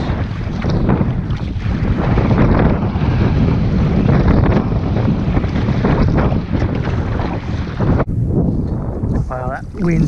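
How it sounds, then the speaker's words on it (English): Strong wind of about 20 knots on open water while fishing from a kayak, a loud, constant roar battering the microphone with rushing gusts, and a voice talking over it near the end. "It's already up to 20 knots, I reckon."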